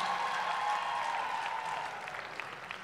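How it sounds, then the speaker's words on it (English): A crowd applauds the Nigerian mothers present, a continuous wash of clapping that holds steady before thinning out toward the end. "A round of applause for all the Nigerian mothers in the house."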